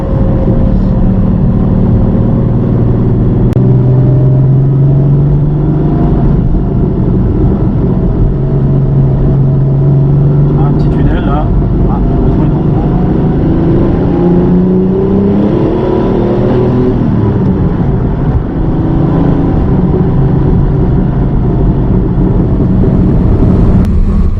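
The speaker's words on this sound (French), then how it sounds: "si je mets un coup l'accélérateur là, ouais, ça part" A 1988 Porsche 930 Turbo engine rumbles loud and close throughout, swelling as the throttle opens under acceleration, a steady continuous roar with no talk over it.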